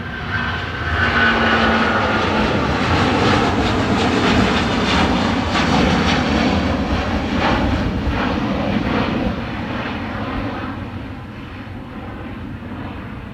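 A Boeing 777-200 passes at Dublin Airport, its broad jet roar loud and steady for most of the span before easing off, with the breeze carrying the engine noise back toward the listener.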